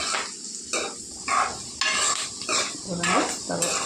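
A utensil stirs a potato and fenugreek leaf fry in a pan, giving intermittent scrapes and metallic clinks over a faint sizzle.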